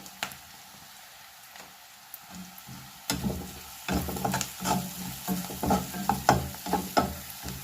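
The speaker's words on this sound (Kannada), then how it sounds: "ಚೆನ್ನಾಗಿ ಫ್ರೈ ಮಾಡ್ಕೋಬೇಕು. ಈರುಳ್ಳಿನ ಚೆನ್ನಾಗಿ ಇದಾಗಬೇಕದು." Onion with a spoonful of garam masala fries in a pan: a faint sizzle at first, then rhythmic spatula scrapes and stirring over the crackle grow louder and quicker.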